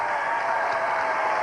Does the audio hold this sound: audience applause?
yes